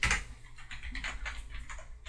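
Keys clatter on a computer keyboard in a short run of quick, close taps, a light, uneven patter with no voice over it.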